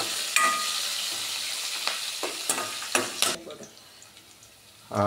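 Dried red chillies and thinly cut green chillies frying in a pan for coconut rice, a bright crackling sizzle with several spatula scrapes, fading quieter near the end before a short loud burst.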